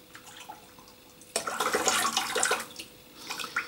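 A shaving razor, a Merkur 45C bakelite safety razor, is dipped into standing water, giving a close burst of splashing and sloshing that swells suddenly after a quiet start and then trails off into softer water sounds.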